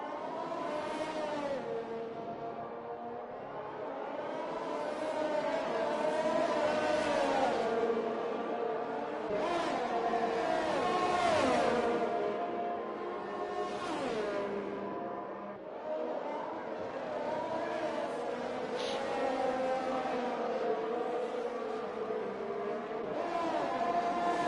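Race cars battling for second place in a sim racing game at Imola, four engines rising and falling through gears and passing one another, loud and continuous throughout.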